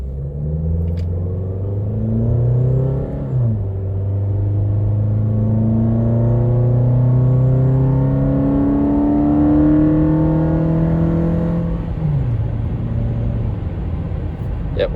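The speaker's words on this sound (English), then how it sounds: "I'm gonna do like half throttle through first gear, and then I'm gonna do full throttle up to 60." A 2004 Toyota Camry on its stock exhaust accelerates, first at half throttle, then at full throttle, with a loud, steady engine drone rising in pitch through each gear, dipping at the gear changes, close and continuous with no talk.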